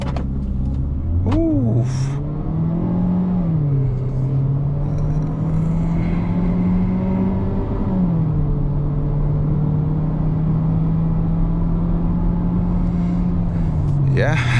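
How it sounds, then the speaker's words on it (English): A 2022 Changan UNI-T Sport launches hard from a standstill to 100 km/h, its engine note climbing through gear changes in a loud, sustained rising drone heard from inside the cabin, with a brief exclamation near the start. "0 to 100 and the launch control test for the UNI-T"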